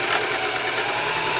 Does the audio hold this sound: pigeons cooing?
no